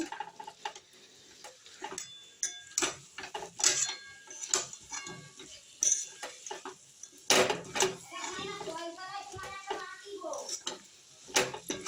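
A spatula clatters and scrapes in a pan as fried potatoes are stirred with Vetki fish, giving irregular close metallic clinks, and a voice briefly speaks over the stirring.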